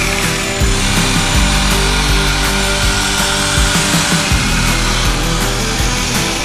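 A HUINA 1593 RC excavator's toothed rock bucket scrapes and digs into hard-packed ground, a loud, steady gritty grinding with repeated scratching bursts and the constant whine of its motors close by.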